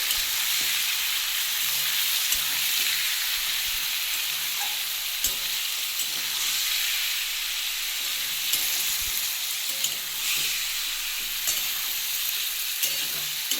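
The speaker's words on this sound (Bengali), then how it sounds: "আমার তেলটা গরম হয়ে গেছিলো আমি মাংসগুলো দিয়ে দিয়েছিলাম দিয়ে আমি একটু হালকা করে ভেজে নেবো" Chicken pieces frying in hot oil, a bright steady sizzle filling the scene up close, with occasional soft knocks of stirring and no talking.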